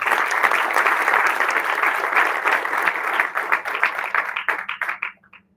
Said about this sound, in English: First, a good round of applause for these three entrepreneurs.